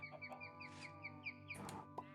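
Chickens clucking in the video game Minecraft, with several short chirpy clucks over a steady, quiet background hum, fairly soft and without talk.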